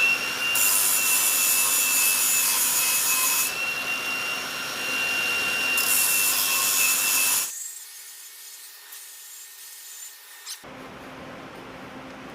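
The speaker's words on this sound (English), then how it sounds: "Those are going to be easy to grind down." Welds on a 1967 Ford Mustang Eleanor-style gas lid are ground down with a power grinder. A harsh, steady high whine comes in close bursts and then cuts off to a quieter hum.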